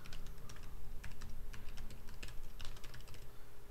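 Quiet, rapid typing on a computer keyboard, a steady run of light key clicks with brief pauses, close and alone without any voices.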